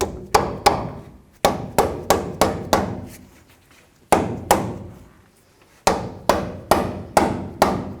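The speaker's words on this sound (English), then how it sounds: "we're going to just take a rubber mallet due to all the rust in there, of course. I'm going to try to hammer it in." A rubber mallet pounds a ball joint into a rusty front lower control arm on a 1997–2004 Dodge Dakota. Sharp, close thuds come in quick bursts of three to five strikes with short pauses between them.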